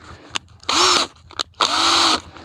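A cordless drill set to fast, not hammer, bores a medium bit into a tree trunk at a slight upward angle: two sharp whirring bursts with a short pause between them, each spinning up quickly and loud at close range.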